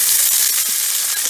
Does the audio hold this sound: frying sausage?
yes